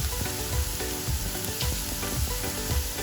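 Tomatoes tipped into hot frying masala for restaurant-style palak paneer sizzle loudly and steadily, with stirring scrapes and soft bursts popping through the crackle, close up and with no voices.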